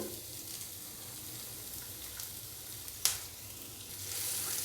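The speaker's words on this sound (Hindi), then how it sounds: "प्याज को हल्का सा फ्राई कर लेंगे 1 से 2 मिनट के लिए, ताकि प्याज थोड़ा सा नरम हो जाए" Finely chopped onion frying in a pan with roasted cumin seeds, a steady soft sizzle throughout with a brief sharp clatter near the middle as it is stirred, no voices.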